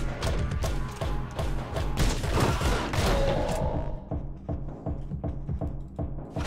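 Gunfire in the first-person action game Anger Foot: a dense, loud barrage of rapid shots and thuds that thins toward the end into a steadier run of separate cracks.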